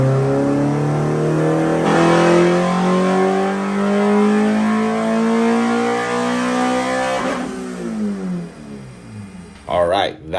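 Honda B16a engine on a dyno, revving in a long steady climb in pitch that peaks and drops off as the throttle closes, loud and close, followed by a few short blips and mechanical clatter.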